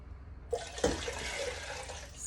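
Vinegar, 5% strength, pours steadily into a pot for pickling peppers, a broadband liquid rush that starts abruptly and runs continuously, fairly close, with no talking.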